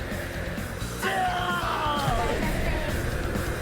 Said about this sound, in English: He's gonna do that scream again.